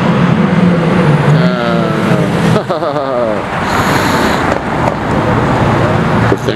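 A Lamborghini Aventador SV with race exhaust roars close and loud over wind and road rush, with a couple of quick rising rev sweeps in the middle.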